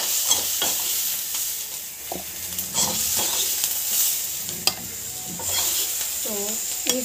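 Vegetables sautéed in a pan without oil, a close, steady sizzle broken by repeated scraping and stirring strokes, with no talk heard.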